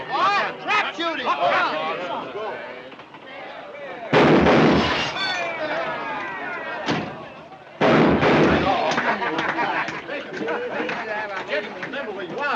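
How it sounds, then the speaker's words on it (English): Shotgun blasts at a trap shoot in a 1942 film scene: two loud, sharp reports about four seconds apart that cut through lively chatter and background music, with people talking throughout. "Trap shooting."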